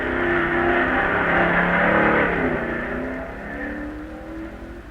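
C-class dragsters race at the 1958 NHRA Nationals with a loud, sustained engine roar that swells and then slowly fades as the cars pull away, heard from a distance with no talking.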